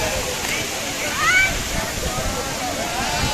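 A waterfall beside a walking trail gives a steady broad rush of falling water, fairly close, with faint voices and a bird-like chirp over it.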